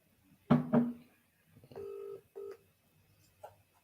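Telephone keypad tones beep as a number is dialed, a few short DTMF tones after a clattering handset pickup, close and clear in a quiet room.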